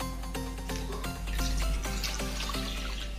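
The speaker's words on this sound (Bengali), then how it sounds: "ঢ্যাঁড়সগুলো আমি ভালো করে ধুয়ে নিলাম" Okra (lady's fingers) being washed by hand in a sink under running tap water for a vegetarian okra and potato curry, a steady close splash and trickle with small bursts of sloshing, no talking.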